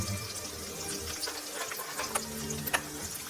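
Onions frying in a pan with salt added, a steady soft sizzle and crackle that holds close and even throughout with a few faint pops near the end.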